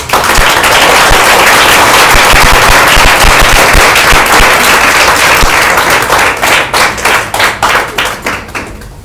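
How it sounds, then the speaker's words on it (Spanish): A church congregation breaks into loud, dense applause that fills the space, then thins toward the end into scattered claps. "¿Puedes dar un aplauso a Dios?"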